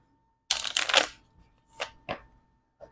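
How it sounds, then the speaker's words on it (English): A deck of playing cards is shuffled in a quick riffle burst, then a couple of shorter crisp riffles and a faint final flick, close and alone with no talking. "Last shuffle, and then I'll cut,"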